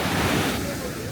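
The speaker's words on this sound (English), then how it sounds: "Look at the waves over here" Ocean waves on Mae Nam Beach, Koh Samui, a loud, broad rush of surf and wind that swells and slowly eases, with light voices mixed in.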